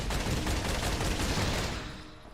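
Sustained rapid gunfire from a Devil May Cry Wii prototype video game rattles as a dense, continuous burst, loud throughout before easing off slightly at the end, with no speech.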